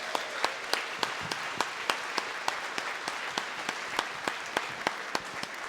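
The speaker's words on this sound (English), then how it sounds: "Please give them a round of applause." Audience clapping at the Balloon Fiesta awards ceremony, a steady, moderately distant round of applause with sharper individual claps popping out across the whole stretch.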